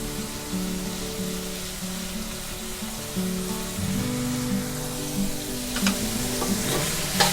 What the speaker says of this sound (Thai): ผัดให้เข้ากันเลยค่ะ